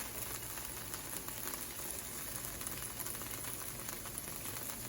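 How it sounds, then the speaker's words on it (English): Pad Thai sauce simmers in a pan, a steady, even bubbling hiss that stays quiet and unbroken throughout with no voices. "let it simmer for a little bit"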